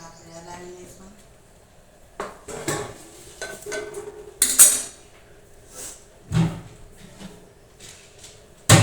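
Chopped cashews and almonds are stirred in a metal cooking pot, giving irregular scraping knocks and clanks with brief pauses, close by, and a sharp clatter at the end.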